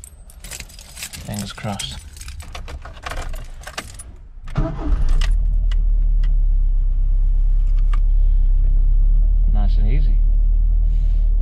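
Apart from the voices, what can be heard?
Ford Escort Mk3 engine being started with key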